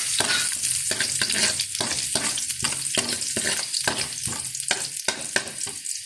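Garlic frying in a pan while being cooked into paksiw, a loud steady sizzle broken by repeated rhythmic scraping strokes of a utensil stirring against the pan.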